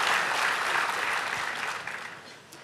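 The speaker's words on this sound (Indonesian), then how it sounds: "Boleh tepuk tangannya di-extend buat worship leader, singers, dancers" A church congregation applauds the worship leader, singers, dancers and musicians at a Sunday service, broad sustained clapping that gradually tapers off and grows fainter toward the end.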